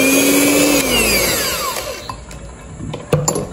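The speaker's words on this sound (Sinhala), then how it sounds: "හොඳ ක්‍රීම් එකක් එනකන් නැවතත් විනාඩි 4ක් හොඳින් බීට් කරගන්න ඕන. ඒකත් හයි ස්පීඩ්." Electric mixer beating cream at high speed for a homemade birthday cake: a loud, high motor whine that drops in pitch as it slows and stops, followed by a few light clinks.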